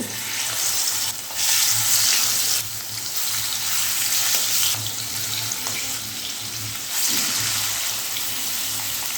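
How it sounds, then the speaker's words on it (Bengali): Boal fish frying in hot white oil in a wok gives a steady, loud, broadband sizzle with splashy bursts and a low hum underneath, continuous and without talk. "এর মধ্যে মাছগুলো দিয়ে ভালো করে ভেজে নিতে হবে"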